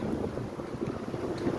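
Strong wind blows dry sand in a sandstorm, giving a steady, low, buffeting rumble at moderate loudness with no voices.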